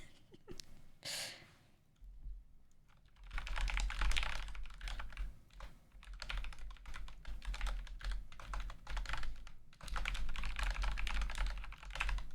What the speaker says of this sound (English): I'm typing as well so he knows.